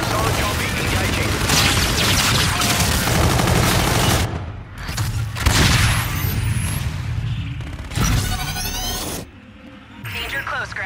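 Heavy gunfire in a Call of Duty: Infinite Warfare online Hardpoint match against bots: loud, dense automatic bursts and booming shots with brief gaps, mixed with in-game radio voices and battle effects.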